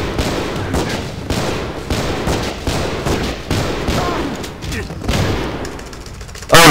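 Rapid bursts of pistol gunfire in the video game Hard Time, repeated sharp cracks and thumps in quick clusters across the whole stretch, loud and close, with voices talking over the shots.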